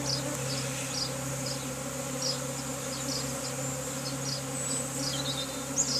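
A caught swarm of honeybees being moved into a new home makes a dense, continuous buzzing drone close by, with individual bees flying past, and no voices.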